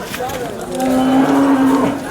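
A buffalo at the Sangola buffalo market lets out a long, low moo close by, droning steadily and swelling in the middle, with no talking around it.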